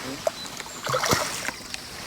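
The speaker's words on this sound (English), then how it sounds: "Ooh, slapped the water." A hooked mirror carp slaps and splashes at the surface of the water near the bank, a brief close burst of splashing with lighter drips around it.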